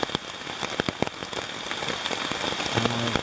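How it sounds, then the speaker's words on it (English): Heavy rain drums on a taut backpacking tent surface in the Great Smoky Mountains, dense and constant with sharp individual drop taps popping throughout, close and loud. "as you can hear, it is pouring down rain"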